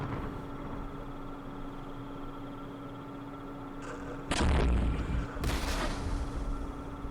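Mortar rounds landing in the Vietnam war strategy game Campaign Series Vietnam, two heavy, loud explosive bursts arriving late over a steady low hum of background ambience.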